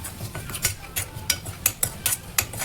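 Onions with turmeric and salt stirred in a pan for chicken curry, a spoon scraping and clinking against the metal in repeated bright strokes over a low, steady background.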